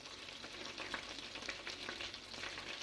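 Oxtails fry in hot oil with a couple of pats of butter added, giving a steady, close crackling sizzle with brief popping bursts throughout.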